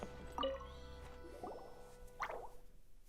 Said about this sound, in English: sounds like a water droplet is on the second floor